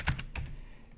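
Computer keyboard keys clack in a short quick burst of several close, crisp strokes, then fall quiet, with no voice over them.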